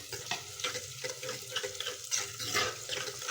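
Onions frying with garlic and green chili paste for a laal lobia (red kidney bean) dish, a steady close sizzle with repeated scraping stirs through the pan, and no talk.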